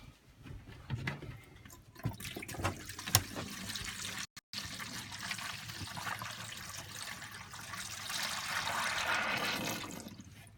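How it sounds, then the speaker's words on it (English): Antifreeze being poured into the toilet trap of a Keystone Passport RV during winterizing, heard as a steady liquid pour and gurgling fill with a few splashy bursts, running nearly continuously with one brief gap. "you're replacing all that regular water that's in the trap with the antifreeze"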